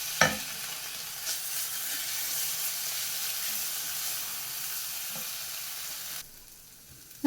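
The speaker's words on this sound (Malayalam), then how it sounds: "അതും കൂടെ ഒന്ന് ഇളക്കി മിക്സ് ചെയ്തെടുക്കാം." Soya masala being stirred and mixed in a pan, a steady close sizzle with soft scraping strokes from the spoon that runs evenly for several seconds, then drops away to quiet.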